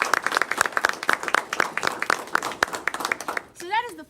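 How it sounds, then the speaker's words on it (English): Applause follows a Juneteenth 2023 joint press conference for the Caddo Parish community event planners, with sharp, fairly close claps in an uneven rhythm over a few seconds, and a voice starts speaking near the end. "So please let's give them all a round of applause."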